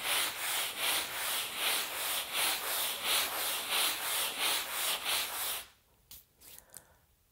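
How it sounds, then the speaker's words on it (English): Fine sandpaper rubs back and forth over leather skin in a steady rhythm of about a dozen close, scratchy strokes, then stops, followed by a few faint handling taps. "I'm using a very fine sandpaper to sand the skin."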